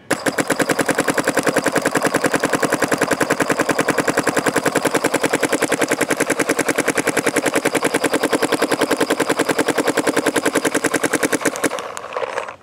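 A Planet Eclipse DLX Luxe X paintball marker fires a long continuous burst of rapid, evenly spaced shots, loud and close, before stopping abruptly near the end.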